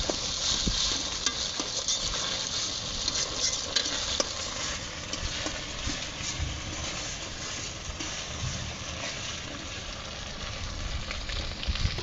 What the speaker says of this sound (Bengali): আদা ও রসুন পেঁয়াজের সাথে ভালো করে ভেজে নিব